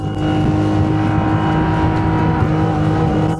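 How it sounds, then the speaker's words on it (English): A 40 hp boat engine drones loudly and steadily at high revs at full throttle, a continuous strong motor hum with no voices. "And the engine revs up, not bad at all."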